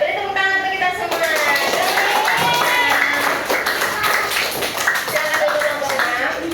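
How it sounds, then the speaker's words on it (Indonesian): In a classroom, a group of students gives a round of applause, scattered claps mixed with voices chattering and calling out over the top throughout. "beri tepuk tangan untuk kita semua"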